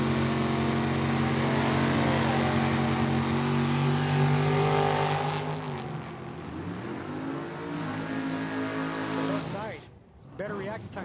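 Drag race launch at a dragway, a 1971 Ford Maverick and a dragster roaring off the line together, loud engines droning then fading down the track, with an announcer talking over the noise.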